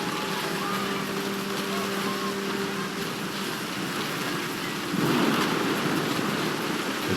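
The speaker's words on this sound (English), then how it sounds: "The thunder sounded much too close and full of angry power." Steady rain hisses through a thunderstorm in the game What Remains of Edith Finch, with a low rumble building and a louder surge of thunder about two-thirds of the way in.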